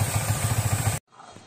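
A Yamaha R15 v3 motorcycle engine idles with a steady, rapid low pulse during chain cleaning, then cuts off abruptly after about a second, leaving faint clatter.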